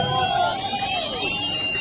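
Crowd cheering at a public screening of massacre footage, a dense continuous roar of many voices with rising shouts and shrill cries, steady and fairly loud throughout.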